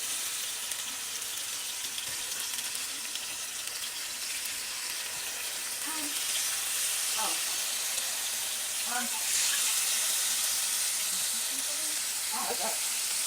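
Lamb pieces searing in a hot pan give a steady, fairly quiet broadband sizzle with faint hiss throughout, and a few brief stirring or shifting bursts break through.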